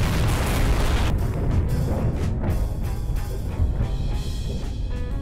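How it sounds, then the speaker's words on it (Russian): A heavy rumbling boom from an underwater bomb explosion in Garry's Mod rolls out at the start, then fades into a long, low echoing rumble with scattered crackles. "Вы слышите этот звук эхо взрыва вдалеке прям?"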